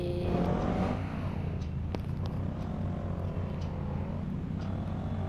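Motorbike engine in the Indian Bike Driving 3D video game, a continuous steady low drone that holds at an even level from start to finish, with faint whistling tones and no talking.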